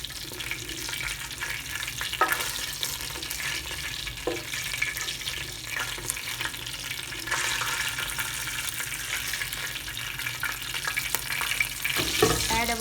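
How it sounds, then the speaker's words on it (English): Dry masala spices frying in oil in a pot over a very low flame, a steady soft sizzle with occasional stirring scrapes and clinks, growing slightly louder partway through, with no talking. "add our dry masalas to it on a very low flame"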